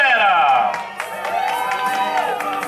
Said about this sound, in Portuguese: Palmas pra mamãe, galera!